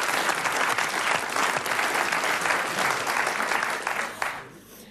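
Studio audience applauding in a German TV talk show, a dense, steady clapping that fills the room for about four seconds before tapering off quickly at the end.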